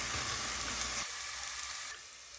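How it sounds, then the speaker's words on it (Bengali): Panch phoron with chopped onion and garlic sizzling in hot oil, a steady close frying hiss that fades and thins out partway through, with no talking. "এখন জাস্ট পাঁচ ফোড়ন তারপর হচ্ছে পেঁয়াজ এবং রসুনের কুচি কুচি দিয়েছি"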